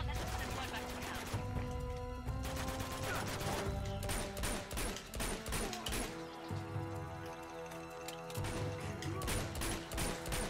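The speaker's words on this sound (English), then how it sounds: "Well, if they can't hear the gunshots by now." Gunfire in the video game Uncharted 2: Among Thieves, rapid bursts and fusillades of shots mixed with game music and effects, dense and continuous, with a voice speaking beneath.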